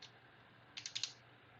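A few quick clicks of a computer keyboard while typing spreadsheet instructions, four or five close keystrokes in a short burst, fairly quiet and alone, with no talking.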